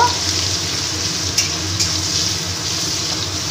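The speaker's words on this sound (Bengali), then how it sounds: "ওই তেলে আমি 3টে পেঁয়াজ কুচি করে রেখেছি, পেঁয়াজটাকে দিয়ে দিলাম। পেঁয়াজটাকে একটু ভেজে নেব।" Chopped onions fry in hot oil left from frying dried fish, a loud, continuous sizzle with a couple of brief clinks from stirring.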